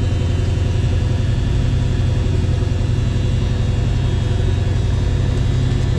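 A 1970 Ford Mustang Mach 1 fastback with an M-code V8 and 5-speed idles steadily just after starting, a loud, continuous low rumble close by with no talking.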